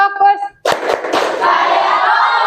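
A group of people claps in a classroom, several sharp hand claps in a quick, uneven pattern. A voice comes just before them, and a long burst of applause-like clapping follows.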